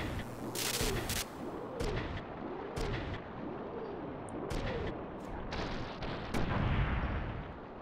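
Repeated cannon artillery fire in the PlayStation game Front Mission 3, a series of loud, sharp booms spaced about a second apart over a steady rumbling battle background with a low repeating hum.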